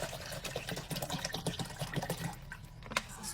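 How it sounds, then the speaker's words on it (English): Water poured from a cup onto dry lentils in a container while making lentil tofu, a close, continuous splashing trickle with small clicks, fading toward the end. "And then we're gonna put water on top of it, and we're gonna puree it."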